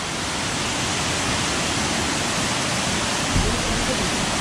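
Water pours in a dense, unbroken roar at Kothapalli waterfall near Araku, heard up close, steady and loud throughout.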